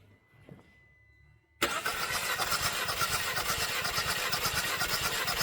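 A Citroen C4 engine with a cylinder fault cranks and catches abruptly after a quiet moment with a faint tone, then runs loud and rough with a steady pulsing drone close by.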